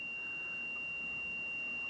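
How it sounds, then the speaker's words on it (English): A multimeter in continuity-test mode gives a steady, unbroken high beep that runs the whole moment, faint and alone with no other sound. "It will give you a reading, but it also beeps as well."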